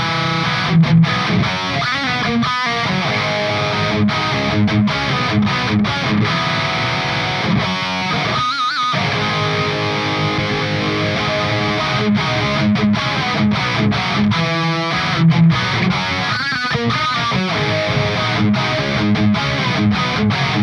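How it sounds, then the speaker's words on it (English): Distorted electric guitar played through a 5150 amp with a chorus pedal switched in, loud and continuous with dense chugging riffs and brief pauses between phrases. "No chorus this time, then I kick in the chorus."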